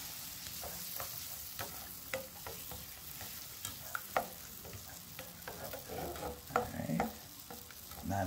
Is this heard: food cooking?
yes